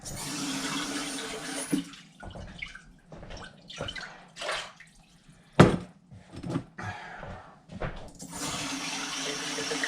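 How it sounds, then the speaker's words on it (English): Cooking vessels being rinsed under a running tap while making borscht, with bursts of gushing water and splashing interrupted by pauses and a sharp clank, close and without talk. "I think we can rinse these out a bit."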